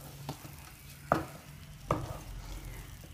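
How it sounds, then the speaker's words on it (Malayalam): A carrot cake mixture being stirred in a pan, soft scraping with two sharper clinks of a spoon against the metal over a quiet, low sizzle. "നന്നായിട്ട് മിക്സ് ചെയ്ത് കൊടുക്കാം."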